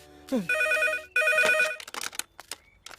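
A telephone ringtone sounds twice in quick, loud electronic trills, followed by a few clattering knocks.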